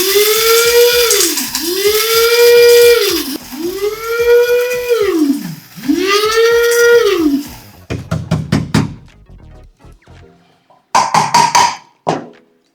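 A mini mixer grinder is switched on and off in short pulses while grinding cloves and pepper. Three whining motor bursts rise and fall in pitch, followed by loose rattling and clattering of the spices in the jar.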